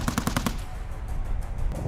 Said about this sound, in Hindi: गोलियों की तड़तड़ाहट